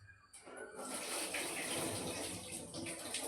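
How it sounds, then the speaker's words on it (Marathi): Water gushes into a vessel as rice is rinsed in a home kitchen while masala rice is being made, a steady near splashing pour after a brief quieter start. "तर असं तांदूळ 2 पाण्याने धुवून घ्यायचं."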